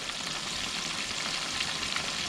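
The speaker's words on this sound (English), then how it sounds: "Jalapenos are still in there frying, heating the oil, give a little kick to the fish." Redfish frying in oil infused with ginger, garlic and jalapenos, a steady, fairly quiet hiss of sizzling oil that holds even throughout, with no talk.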